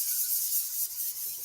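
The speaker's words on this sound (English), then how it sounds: "circular sanding, using the palm of my hand" Sandpaper is rubbed in circles under the palm of a hand, giving a soft, continuous, close scratchy hiss.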